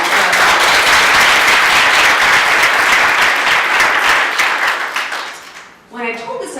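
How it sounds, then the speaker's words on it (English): A large audience at a political fundraising event for a Texas lieutenant governor candidate breaks into loud, sustained applause that fades after about five seconds, and then a voice begins speaking. "How about a round of applause for that?"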